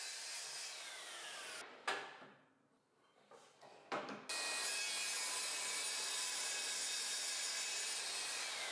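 A bandsaw cuts through leftover pieces of wooden board, the steady high motor whine dipping briefly as the blade bites into the wood, then running on loud and even.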